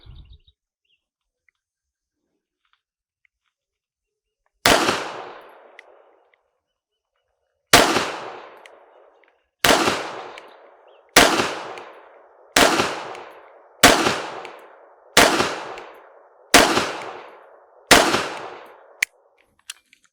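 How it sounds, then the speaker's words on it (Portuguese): Ten loud, sharp shots from an S&W Shield EZ pistol fired at a target ring out one after another at uneven intervals of a second or two, each cracking and then echoing briefly. "10 disparos no alvo da esquerda, gente."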